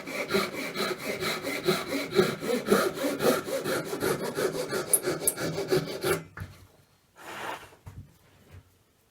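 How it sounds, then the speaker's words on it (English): A saw cuts through wood to shape a sanding bow, with quick, rhythmic back-and-forth strokes for about six seconds, then stopping, followed by a brief rasping scrape and quiet. "I'll cut a shallow curve from one edge. Finally I'll cut about 1 inch off the ends."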